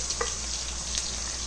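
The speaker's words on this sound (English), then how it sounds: "So right now we are adding onion, and this will slowly caramelize." Chopped onion frying in hot oil with cardamom, cinnamon and star anise for paneer butter masala: a steady, close sizzle with occasional small pops and crackles.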